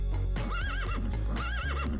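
A voice imitates a horse whinnying for an imaginary horse during a children's toy unboxing, with two wavering, rising-and-falling neighs over a loud, busy background.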